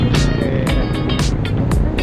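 Road traffic in Amadeo on a motorcycle ride toward Tagaytay, a loud close engine rumble with a rapid series of whooshing swells from passing vehicles, brief voices mixed in.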